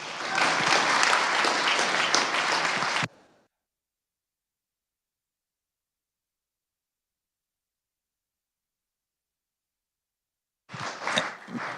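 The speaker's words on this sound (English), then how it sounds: "if we could give these guys a round of applause and welcome to the Senate" A round of applause for visitors fills the Senate chamber for about three seconds, dense and fairly loud, then cuts to silence before a brief burst of sound returns near the end.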